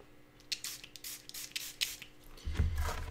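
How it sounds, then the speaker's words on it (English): A few short, sharp hisses of a spray bottle misting water onto a watercolor painting in quick bursts, close and fairly quiet, followed by a brief thud and rustle. "I will use a spray bottle,"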